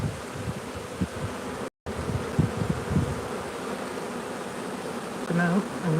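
Honey bees buzz in a steady, dense drone around open beehives during an inspection, close and continuous, with a brief dropout partway and a louder single bee passing near the end.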